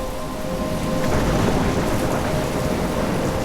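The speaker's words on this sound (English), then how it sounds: "I'm trapped in a storm?" A thunderstorm in the mobile version of the Life is Strange video game: heavy rain pours in a steady, dense roar while low thunder rumbles beneath it, continuous and loud with no voices.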